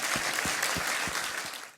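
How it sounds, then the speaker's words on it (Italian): An audience applauds Paolo Pillonca at an evening gathering in Fonni, with dense, steady clapping from a crowd that holds even and then tapers off at the close. "Un applauso per Paolo."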